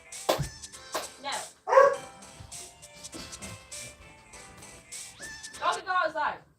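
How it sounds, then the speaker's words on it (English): Dogs bark in short, sharp bursts scattered through the stretch, with some barks louder and closer than others, alongside a person talking. "There's dogs barking again."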